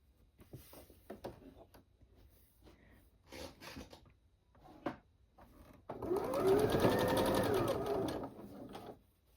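Quilt block pieces stitched on a sewing machine: after some quiet handling noises, a loud continuous motor whir with rapid needle chatter runs for about three seconds, then stops.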